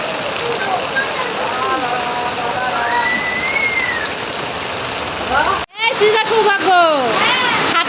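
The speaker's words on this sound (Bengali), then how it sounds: "বৃষ্টি হচ্ছে দেখো কত সুন্দর টিনের চালে বৃষ্টির শব্দ ঝমঝম করে ভালো লাগে" Steady heavy rain drums on a tin roof as a continuous close wash of patter, with people talking over it throughout and a brief cut partway through before the downpour and voices resume.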